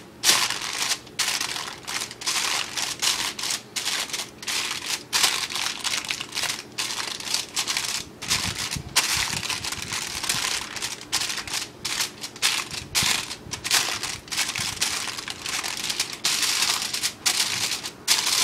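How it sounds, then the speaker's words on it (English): Aluminum foil being pressed and shaped into a satellite dish form, with continuous close crinkling and crackling in rapid irregular bursts, loud and dense throughout without speech. "You want to gently press the aluminum foil down"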